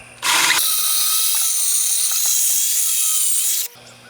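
A power drill with a special stepped bit bores a pocket hole into wood held in a clamped pocket hole jig, producing a loud, steady grinding whir for about three seconds that stops abruptly, with no talk.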